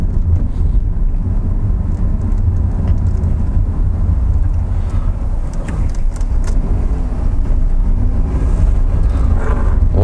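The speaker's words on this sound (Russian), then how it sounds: "Даже по грунтовочке едем" Steady engine and tyre rumble of a Honda N-Box kei car on a dirt road, a continuous low drone with gusts of wind noise, no talking.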